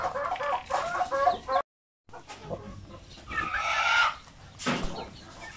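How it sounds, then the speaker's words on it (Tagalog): Native Basilan chickens, a rooster and a hen, cluck in close, busy bursts. A short silent gap breaks the clucking before the calls and squawks start again. "Nag one-on-one na lang yung ating manok. Isang rooster at isang hen na basilan."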